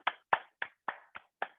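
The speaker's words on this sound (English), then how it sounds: "And then give yourself a clap." Six crisp hand claps ring out at an even, unhurried pace in a quiet room during a Pilates class for Parkinson's disease, each sharp and distinct with silence between, no voices.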